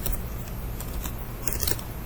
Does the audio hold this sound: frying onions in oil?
no